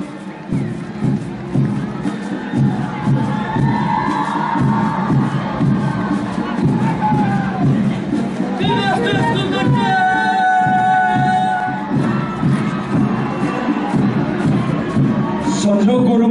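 A large crowd of spectators cheering and shouting at an Independence Day parade on a public ground in Darjeeling, loud and continuous for the whole stretch, with a higher chorus of children's voices and some brass-like tones rising midway.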